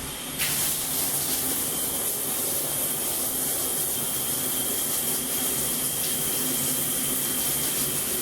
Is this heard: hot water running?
yes